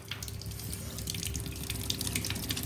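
Cold water pours steadily into a pot in a continuous, splashy, fairly faint stream close by, with no voices.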